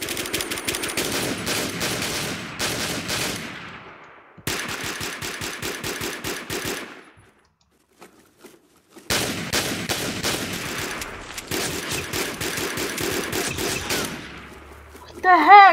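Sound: gunfire in a video game (Warmode)

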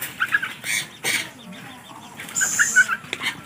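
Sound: various birds in a mini aviary

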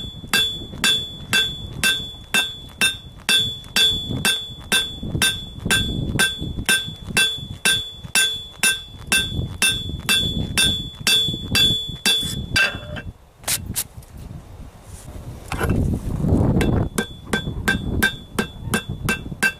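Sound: hammer forging and flattening a trowel

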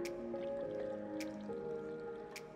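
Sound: water being poured to fill a vase

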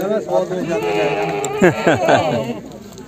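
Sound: goat bleating at goat market

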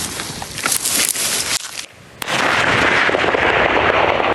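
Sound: explosion

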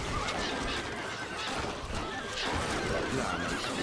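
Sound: horses neighing in Stronghold Crusader video game

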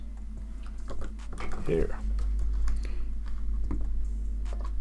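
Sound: typing text on a computer keyboard

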